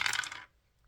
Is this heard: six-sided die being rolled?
yes